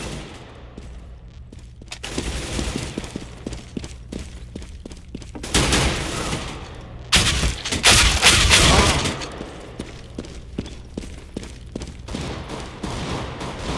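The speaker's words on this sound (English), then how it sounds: "Grenade out." A grenade blasts amid dense rifle fire in a Counter-Strike match on the Mirage map, with rapid gunshots under loud, broad explosive bursts that swell and fade.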